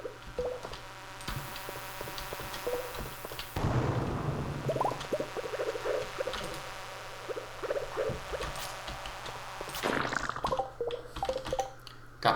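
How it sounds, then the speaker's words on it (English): A cherry bomb in the farming game Stardew Valley goes off as one sudden, muffled blast partway through, surrounded by soft game music and small interface blips. "I'm going to plant the cherry bomb"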